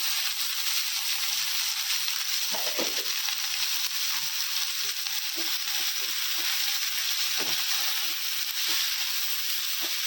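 Fenugreek greens frying in a pan for dal methi with soaked moong dal, a steady loud sizzle and hiss throughout, broken by soft stirring scrapes and crackles.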